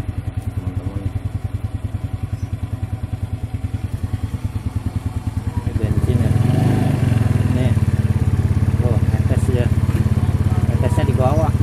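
A Yamaha Mio scooter with a fuel leak idles with a fast, steady mechanical chug. Its engine is then revved and holds a louder, rougher drone, close by, while people talk over it.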